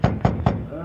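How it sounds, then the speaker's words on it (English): Three loud, evenly spaced knocks on a door at evening, close and heavy, followed by a brief quiet tail. "Let's knock."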